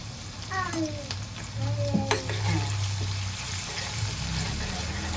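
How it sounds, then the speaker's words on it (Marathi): Crushed ginger and garlic are added to a hot oil tempering and sizzle steadily in the pan, close and continuous, with brief clinks and scrapes of a utensil at the start. "आता यावर आपण आलं, लसूण आणि याचा ठेचा घालूया"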